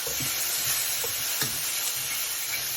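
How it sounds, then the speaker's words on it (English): Pre-fried tofu stir-fried in a pan, a constant bright sizzle with a few light spatula taps and stirs, close by, nobody speaking. "Dump in your pre-fried tofu. And stir a bit."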